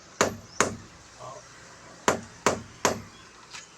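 A hammer strikes a nail, about six sharp, close knocks in uneven pairs with short pauses, before a rope is tied.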